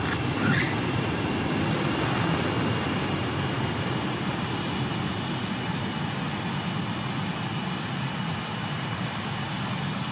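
A fighter jet in Ace Combat 7 sets down on a runway, its engine a steady, loud, broadband roar that holds level the whole time with no voices over it.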